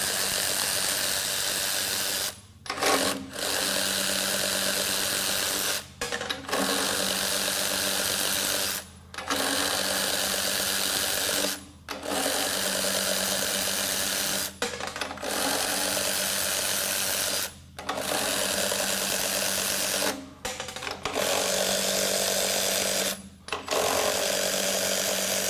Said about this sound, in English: now we're going to see how quickly we can break free each one of these fasteners that are torqued to just 5 foot-pounds